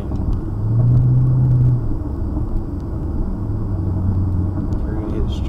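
A Hyundai Genesis R-Spec sedan's V8 exhaust through Borla Pro XS mufflers gives a loud, deep, steady rumble heard from inside the car, with brief rises in engine pitch.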